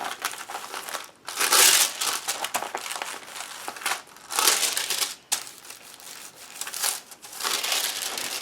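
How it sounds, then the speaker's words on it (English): Aluminium foil on a hidden-pocket altered book is crinkled and crumpled close up in several loud bursts while sticky bits are peeled off, with quieter rustling between them and no talk. "Just getting rid of any sticky parts that are still on the foil."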